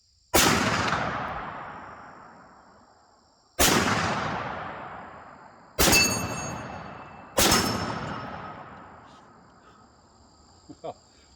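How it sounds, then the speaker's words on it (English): A Ruger Mini 14-based PCC Deerfield carbine fires four loud, close shots at uneven intervals outdoors, each a sharp crack followed by a long ringing decay, with no talking. "Let's shoot it some more."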